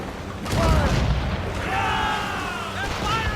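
Heavy booms of ship cannon fire during an Assassin's Creed Rogue naval battle, a deep blast rolling out under shouted crew voices and game chatter.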